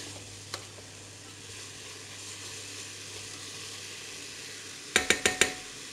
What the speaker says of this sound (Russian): Сейчас мы помешаем тут все.